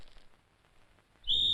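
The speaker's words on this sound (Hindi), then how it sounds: "मेरे बाप ने सीटी बजा दी है।" In a scene from a 1999 Bollywood action film, a shrill, steady whistle is blown suddenly and loudly at the end, after a stretch of near silence.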